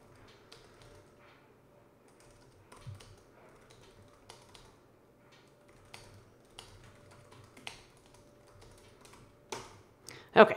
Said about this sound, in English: I'll type that in real fast.